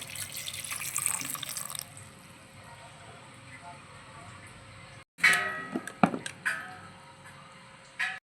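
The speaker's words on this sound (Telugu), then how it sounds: "ఇప్పుడు కొంచెం వాటర్ వేసుకోవాలండి" Water is poured into a pot of lentils with ridge gourd, seasoned with turmeric and chili powder in a home kitchen, a few close splashing gushes after a quiet stretch of faint background hiss.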